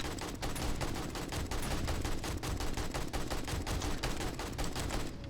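Rapid AK rifle fire in the video game 7 Days to Die, a loud, continuous automatic burst of closely spaced shots running nearly the whole time without pause.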